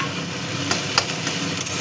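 Chopped onion fries in a pan for dhaba-style Bengali egg tarka, a close, steady sizzle with a few light scrapes of stirring and no speech.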